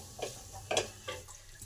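A spoon stirs lentil curry with tomato in a pan, three or four soft, close scraping strokes spaced unevenly over quiet background hum.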